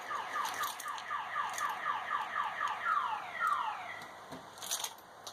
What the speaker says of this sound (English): And that would be my car alarm.